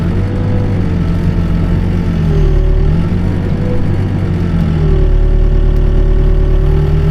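A small-cam truck engine built to 350 specs with 350 pistons idles close by in a steady, even rumble with a low throb, running continuously with no voices.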